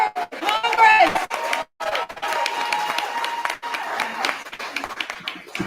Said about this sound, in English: Give another round of applause for Brad Meyer, Congress.